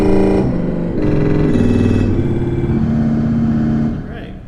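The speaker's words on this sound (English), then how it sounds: "What does it do in the bottom octave? Makes a lot of rattling." A 1965 Schantz pipe organ in Second Presbyterian Church, St. Louis, sounds its 32-foot stop in the bottom octave: loud, sustained deep notes change pitch in several steps, with a buzzy rattle, before fading at the end.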